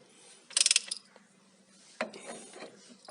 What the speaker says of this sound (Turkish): 19 lokmayla da tatlı sert sıkıyorum.